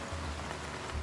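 Heavy jungle downpour in the Sumatran rainforest, a dense, steady hiss of rain on foliage, fairly faint and continuous throughout the short stretch.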